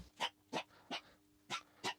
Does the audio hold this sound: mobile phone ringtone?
no